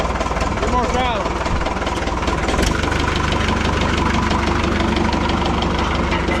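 Minneapolis Moline Jet Star 3 tractor engine running loud and steady at close range, a throaty idle with knocking texture that rises slightly as the throttle opens, with a voice speaking briefly over it.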